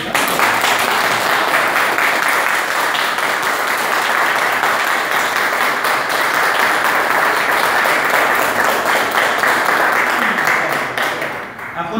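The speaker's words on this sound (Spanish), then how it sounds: "Un aplauso." An audience at a 125th anniversary celebration of a society breaks into sustained, even applause, a thick wash of clapping that holds steady before tapering off at the end.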